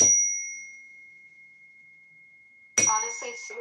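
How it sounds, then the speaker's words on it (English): A newly bought zen bell is struck once. Its bright, sustained tone rings out clearly and fades slowly for several seconds until a voice begins talking over the tail of the ring. "I bought a new Zen bell"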